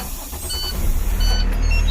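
A school bus engine turns over and settles into a steady low rumble, growing louder as it runs.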